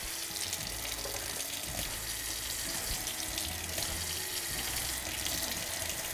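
Tap water runs steadily from a kitchen faucet, a continuous close hiss and splash as room-temperature water is measured for French bread dough, with no talking.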